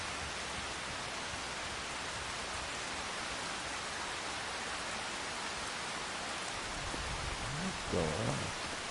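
Rain falls in the video game Farming Simulator 25, a constant hiss of rainfall that fills the scene evenly, with a brief low murmur of voice near the end.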